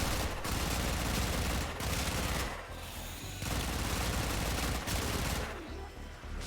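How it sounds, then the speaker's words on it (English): Sustained rapid gunfire from a gun in the video game Warframe, dense loud automatic bursts with brief pauses between volleys, no talking. "I'm firing far more bullets than I need to do this."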